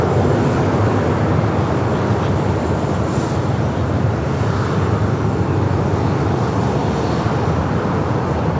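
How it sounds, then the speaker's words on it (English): A Sun Country Boeing 737-800 arrives from Kona at LAX with a steady, broad jet engine roar that stays loud and even throughout, with no talk over it. "That's that Sun Country 737-800 coming in from Kona, heading over there to Signature Aviation"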